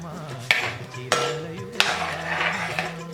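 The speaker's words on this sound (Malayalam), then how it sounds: "ഇതിലേക്ക് ആവശ്യത്തിനുള്ള ഉപ്പ് ഇട്ട് ഇത് നന്നായിട്ടൊന്ന് ഇളക്കി കൊടുത്ത് വേവിച്ചെടുക്കാം" Yam, raw banana and green chilli stirred in a pot for Onam kaalan, three sharp metallic clanks of a spoon against the pot over a low steady simmer, close and clear.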